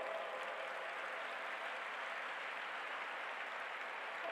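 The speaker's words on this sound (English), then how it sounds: "With a big round of applause, please welcome Dr. Alok Srivastav." An audience at an interfaith summit applauds to welcome a speaker, a steady, even wash of crowd clapping heard at a distance throughout.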